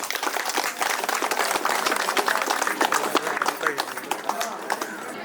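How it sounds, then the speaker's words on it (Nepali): Wedding guests clap together in a loud, dense burst of applause that runs steadily for about five seconds, with a few voices mixed into the crowd noise. "सबैजनाले जोरदार रूपमा ताली बजाइदिनु होला"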